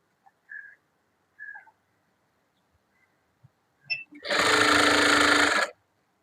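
Sewing machine stitching a blouse sleeve, one steady loud run of about a second and a half following a few faint clicks and taps.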